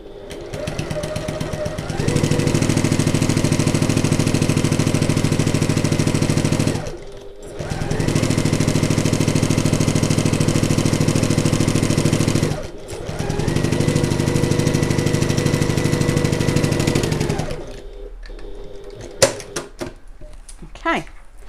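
A sewing machine stitches the top and bottom seams of a midi bag in three long continuous runs, each separated by a short pause, loud and steady, with faint clicks once it stops.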